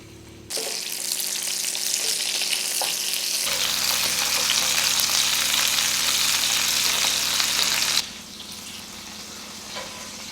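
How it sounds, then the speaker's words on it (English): Butcher's sausages dropped into a hot oiled pan burst into a loud, dense sizzle that holds steady for several seconds, then drops sharply to a quieter crackle, close by with no talking. "I've got a pan, get that on the heat and start browning these sausages off."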